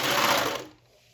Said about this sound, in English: you can just serge off the edge